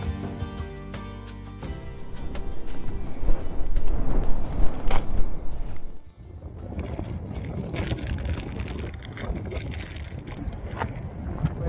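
Wind blusters across an open Patagonian landscape in Torres del Paine during a motorcycle camping trip, a broad roaring rush that swells loudly, drops off abruptly midway, then returns steadier and softer, with no voices heard.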